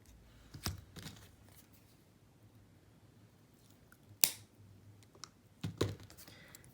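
Scissors snip through bead stringing material while a Jingle Bells bracelet is made, giving a few sharp, close cuts spaced apart against a quiet background.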